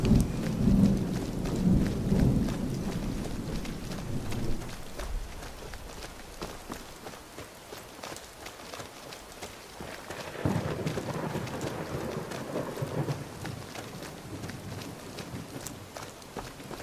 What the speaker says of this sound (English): Right, a thunderstorm.